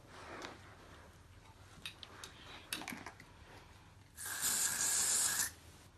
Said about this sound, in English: And give it a spray then.